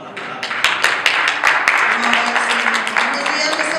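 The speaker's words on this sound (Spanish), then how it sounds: "aplauso para la palabra." Church congregation applause, a dense wash of many hands clapping with a few sharp louder claps standing out, loud and sustained, with some murmuring voices mixed underneath.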